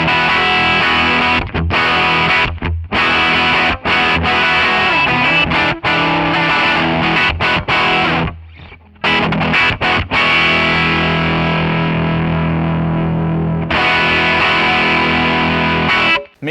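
Electric guitar played through a MESA Boogie Mark III amp model in AmpliTube 5, with a heavily distorted tone and graphic EQ, in loud sustained chords and riffs broken by short stops.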